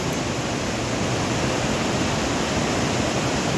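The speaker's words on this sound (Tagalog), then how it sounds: "Welcome to Maranum Falls." Maranum Falls in Batchelor East, Pangasinan, carrying muddy brown water, roars in a loud, steady, dense rush of falling water that fills the whole scene without a break, with no voices over it.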